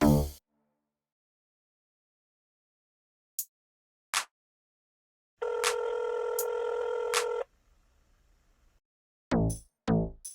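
A phone keypad sounds a short series of clear electronic tones. Separate beeps are followed by a sustained dial tone, with brief bursts of voice at the start and end.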